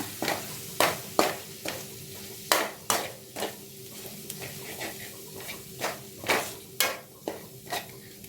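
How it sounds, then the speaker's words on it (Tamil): A spoon scrapes and knocks rhythmically against a pan as coriander powder and garam masala are stirred into a sizzling Chennai vada curry, with repeated sharp strokes over a low frying hiss and no talking. "மல்லித்தூள், கரம் மசாலா எல்லாம் சேர்த்துட்டு கலந்து விட்டுக்கோங்க."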